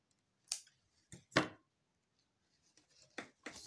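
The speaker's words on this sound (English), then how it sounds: "cut off my yarn" Scissors snipping crochet yarn, a handful of crisp, separate cuts and small handling clicks spaced irregularly in a quiet room.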